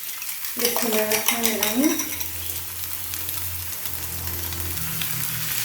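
Egg poured into a hot oiled pan for a breakfast tortilla, a brief burst of splashing and clinking followed by a steady, moderately loud sizzle that continues to the end, with a short spoken phrase near the start.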